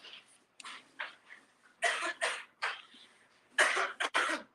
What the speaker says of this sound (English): she coughing with COVID?